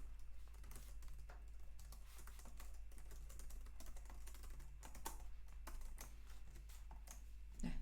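Keys clatter on a computer keyboard while data is entered into an Excel spreadsheet, a quiet, irregular run of clicks and taps over a low steady hum, with no talking.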